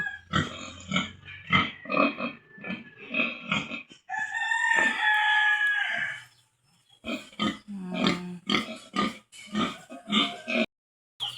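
Chickens in a backyard coop on a farm that also keeps pigs, with repeated clucks and calls and a drawn-out crowing rooster in the middle, close and fairly loud.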